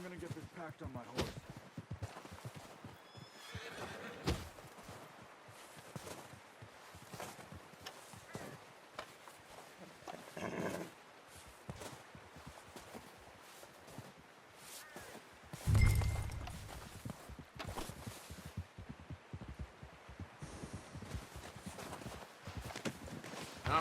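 Steady hoof clip-clop of a walking horse in Red Dead Redemption 2, with a thud and rustling partway through, and voices speaking over it.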